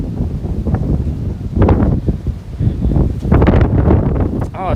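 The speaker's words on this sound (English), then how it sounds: "It's so windy today." Strong wind gusts across a Williamsburg, Brooklyn city street, a loud, constant rumbling roar buffeting the microphone with no voices over it.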